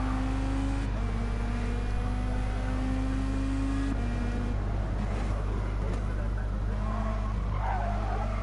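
Mustang race cars in a racing video game, a steady engine hum under intermittent tire squeals and skidding as the rear steps out, the whine holding then breaking off and returning in short stretches.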